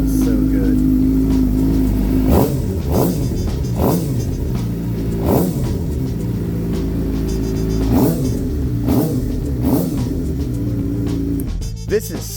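A 2023 Suzuki GSX-R 750 motorcycle engine idles and revs, with repeated sharp throttle blips rising and falling over a steady rumble, loud and close, with a voice talking over it.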